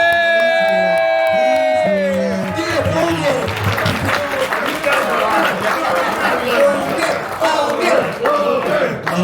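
A convention crowd at a Days of the Dead panel bursts into cheering, whoops and clapping for a late-arriving panelist, loud and busy with shouting and chatter mixed in, building after a brief tonal opening.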